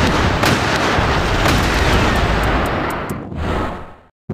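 Loud, dense burst of rapid gunfire and blasts in Sakura School Simulator, sustained for several seconds before cutting out abruptly.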